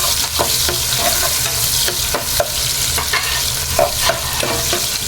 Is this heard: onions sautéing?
yes